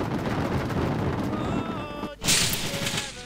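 Gunfire in ARMA 2 multiplayer, a rolling barrage of shots with heavy low rumble, then a sudden loud, bright burst near the end, with players' voices faintly mixed in.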